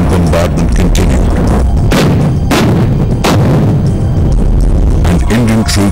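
Artillery bombardment in the Kargil war, a rapid barrage of heavy booming gunfire blasts, dense, loud and continuous with several sharp detonations standing out.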